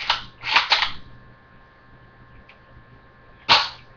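Mosin Nagant rifle bolt worked by hand, giving a quick metallic clack, a double clatter a moment later, then one more sharp clack after a quiet pause, all close and crisp.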